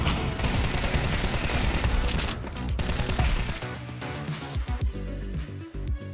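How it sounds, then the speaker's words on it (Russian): Rapid bursts of automatic gunfire sprayed into a wall in the shooter game Counter-Strike 2, dense rattling volleys that give way to sparser, separate shots and clicks toward the end, loud and close. "Смотри, я в стену стреляю, в стену."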